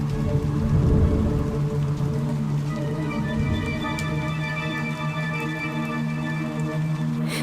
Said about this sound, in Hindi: तभी बहुत तेज बारिश और तूफान आया।